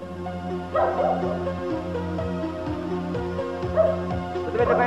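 Presa Canario dog barking loudly and close, a steady run of deep repeated barks, with a low rumbling background underneath.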